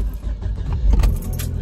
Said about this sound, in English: I'm going to start my car